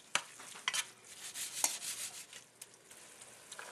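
Ground beef frying in hot oil in a pot over medium-high heat, giving a faint, uneven sizzle with a few sharp scrapes and clicks of stirring.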